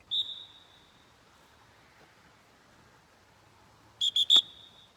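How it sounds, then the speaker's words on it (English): A dog training whistle blown sharply: one short shrill blast at the start, then quiet, then a quick burst of three piercing toots near the end, close and loud. "blow the whistle"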